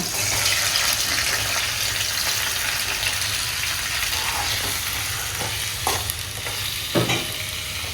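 Three large onions and three tomatoes, sliced lengthwise, fry in oil with a loud, constant sizzle, punctuated by a few stirring scrapes and knocks toward the end, close up and without talk.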